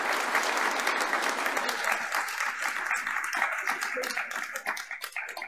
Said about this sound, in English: So big round of applause and thank you to Megan for all the time she did.